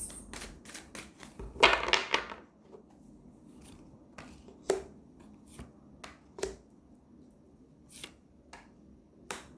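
Tarot cards are handled and laid out, giving a quick shuffling riffle followed by scattered sharp snaps and soft taps as single cards are placed close by. No one speaks.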